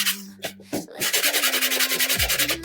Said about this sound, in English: So I'm very lightly sanding.